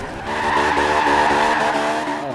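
A Honda Civic Type R with a rally build slides sideways in Forza Horizon 2, its tires giving a loud, sustained squeal over the engine note that holds steady for about two seconds before easing off.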